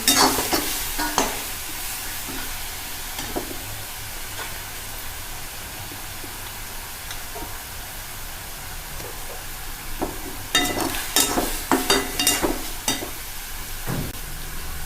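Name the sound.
bombil dry fish chutney frying and being stirred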